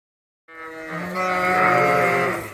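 Ewes on a farm bleat together in a loud, close chorus of overlapping, drawn-out calls that swell and carry on without a break after a short silence.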